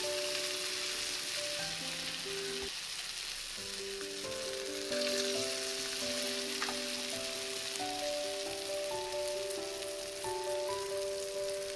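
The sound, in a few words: potato smileys frying in oil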